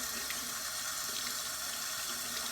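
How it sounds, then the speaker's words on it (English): Tap water runs steadily into a sink while sterling silver jewelry, including a necklace, is rinsed, making a continuous close splashing rush with no voices. "And I'm rinsing it, starting from the face all the way down."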